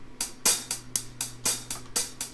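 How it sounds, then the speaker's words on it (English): A trashy hi-hat pattern from Logic Pro's Drum Kit Designer plays about eight bright, sizzling strikes in a steady rhythm, some accented louder, over a faint low hum, with no voices. "Yeah, trashy hi-hats, which makes me hi-hats sound like this."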